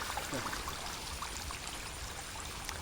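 Water trickles and drains out of a crab trap in a soft continuous splashing, fairly faint, with no voices.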